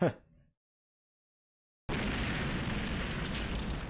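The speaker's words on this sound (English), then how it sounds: "Still an epic explosion right there." A short fading blast, then about a second of silence, followed by a loud, sustained roaring rumble of an explosion in the video game The House of the Dead 2.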